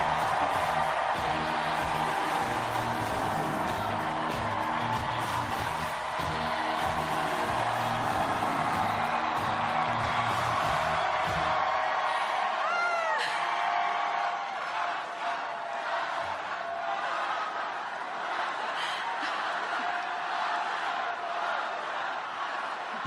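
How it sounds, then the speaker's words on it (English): A large crowd at an NYC mayoral election night headquarters roars with cheers and applause for the organizing director, a loud sustained wash that continues throughout, with rhythmic chanting early on and whoops later. "please join me in giving her the longest and loudest round of applause"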